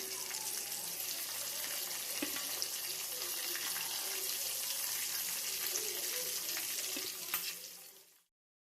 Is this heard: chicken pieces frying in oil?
yes